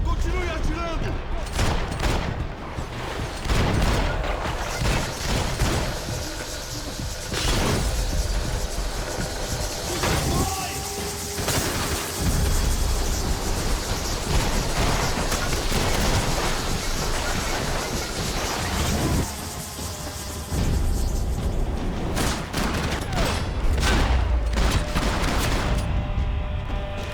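Sustained gunfire and explosions in the video game Max Payne 3, with dense, continuous shooting over a loud, busy combat soundscape lasting the whole stretch, and a voice shouting now and then.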